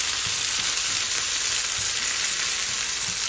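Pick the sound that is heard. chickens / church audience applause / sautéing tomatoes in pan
sautéing tomatoes in pan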